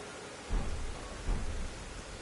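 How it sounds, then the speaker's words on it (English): Rain and thunder in the video game Elden Ring, a steady hiss of rainfall with two low rumbles of thunder rolling through, close and moderately loud, with no talking. "It is frickin' raining."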